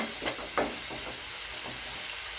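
Tomatoes sautéing with salt in a pan for Chettinad-style stuffed ridge gourd gravy, a continuous close sizzle with a few soft stirring scrapes early on.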